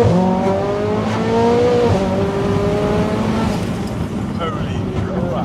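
BMW 140i accelerating hard, its engine note climbing loud and steady through the revs from inside the cabin, with rising harmonic tones and a brief shift near the end, while people talk over it.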